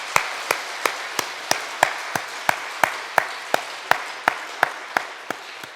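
A church congregation claps in unison during Sunday worship, sharp, evenly spaced claps at roughly three per second, clear and close with no talking.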